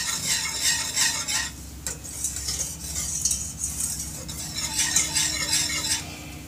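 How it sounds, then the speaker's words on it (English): Steady stirring of a mixture for Moroccan beldi soap in a pot on the heat, with scraping swishes, occasional utensil clinks and a background sizzle. "And you just keep stirring it and watching it until it is clear and it has dissolved."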